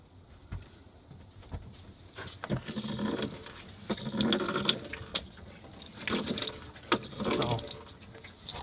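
Water runs in uneven spurts from a foot-pump-operated sink in a tiny Toyota camper, each pump stroke pushing a short splashing gush into the basin, fairly quiet and close.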